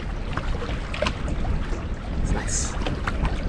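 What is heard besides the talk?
wind blowing on a lake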